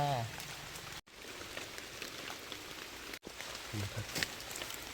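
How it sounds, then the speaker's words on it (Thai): Rain patters steadily on surfaces nearby, a soft continuous hiss of drops with occasional faint voices and brief cuts in the sound. "ฝนตก"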